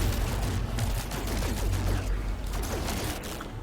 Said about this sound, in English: There it is, a turret up there.